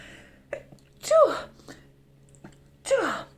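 A quick sharp sneeze, then another after a short pause, with soft breathy sounds around them in a quiet room.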